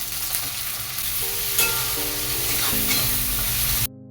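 Tomato and green chili fry in a pan while being stirred, a steady loud sizzle with scraping stirs and a few light clinks, cutting off abruptly near the end.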